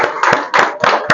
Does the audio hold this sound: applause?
yes